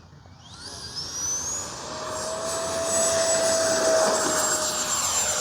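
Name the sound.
FMS Rafale 80mm RC jet taking off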